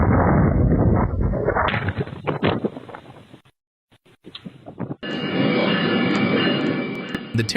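A commuter train rumbles past at a railroad crossing with heavy broadband roar and clattering, briefly dropping out, then surging back loud with wind buffeting the microphone.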